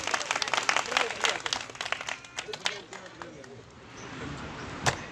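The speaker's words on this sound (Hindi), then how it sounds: "तो एक बार भक्तों के लिए भी जोरदार तालियां हो जाए।" A crowd at a Shri Krishna temple's annual festival claps loudly, dense applause that tapers to scattered claps and then fades, with a voice heard under it.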